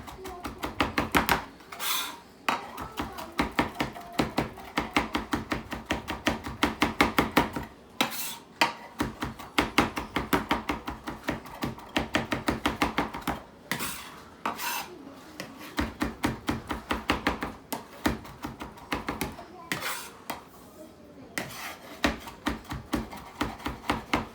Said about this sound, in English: I am chopping as fine as I need it.